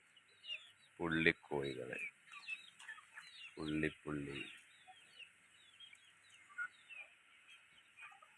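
Native spotted chickens and chicks cluck and chatter softly in the background while someone talks over them in a few short bursts nearby.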